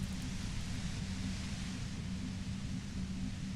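Steady, even hiss of white noise near a compressor in the Disco Elysium game, a constant droning wash with a low hum beneath, unbroken and without any voice.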